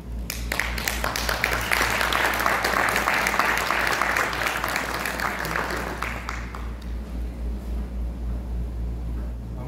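Applause from an audience at a Spanish-language talk by a professor: a swell of clapping that builds, holds steady for several seconds, then fades out into quiet room tone.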